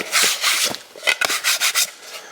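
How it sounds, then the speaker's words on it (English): Damp sponge rubbed over new, never-used pottery wheel bats, a series of soft, close scrubbing strokes in an uneven rhythm, bursts of rasping friction separated by brief pauses, with no talking. "Just give them a little rub over with a damp sponge."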